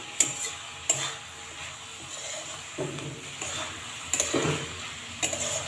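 Spring onions being stirred together with poppy seed paste in a pan, giving soft scraping strokes and a few sharp utensil clicks against the metal over a low background hiss.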